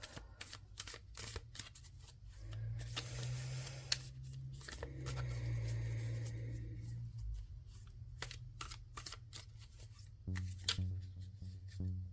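Overhand shuffling of a tarot deck, a steady soft patter of cards slapping and sliding with occasional clumsy drops, close and quiet with no talking.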